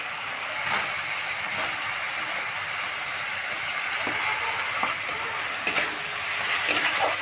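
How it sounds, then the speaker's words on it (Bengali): Fried potatoes are sautéed in spice masala for a banana-flower dalna, giving a soft continuous sizzle broken by occasional spatula scrapes and clicks. "আলুটা দিয়েও ভালো করে কষিয়ে নিতে হবে"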